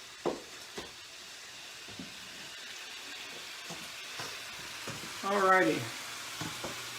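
Ground pork sizzling and frying in a pan while being cooked and seasoned, a steady soft crackle with occasional stirring knocks and a brief water sound, with a short spoken word.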